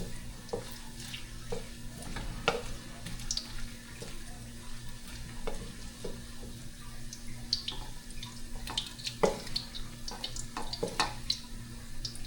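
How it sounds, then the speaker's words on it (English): Toppings for Filipino pancit bihon fry in a pan with a quiet, continuous crackle and scattered sharp pops and spatters throughout. "Fry this one. This will be my toppings."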